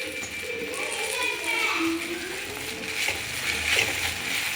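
Greens fry and sizzle in oil in a home kitchen while being stirred, a steady hiss running beneath a voice talking throughout.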